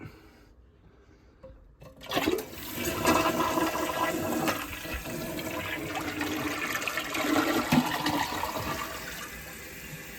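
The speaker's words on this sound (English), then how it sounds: "My float worked, and let's try flushing it." A Kohler toilet with a newly replaced float and fill valve flushes after a quiet moment, a loud close rush of draining water followed by a steady hissing refill.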